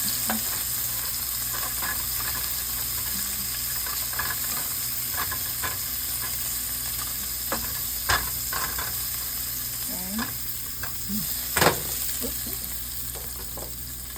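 Fresh basil and garlic sautéed in a pan and turned with Pampered Chef tongs, giving a steady sizzle with scattered soft clicks and scrapes of the tongs, fairly close.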